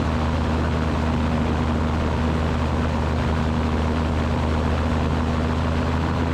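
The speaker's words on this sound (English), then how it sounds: "we're going to step taxi, get us pointed into the wind and an opening for takeoff" A Super Petrel seaplane's engine drones steadily and loudly during a step taxi on water, a constant propeller hum with a strong low tone and no breaks.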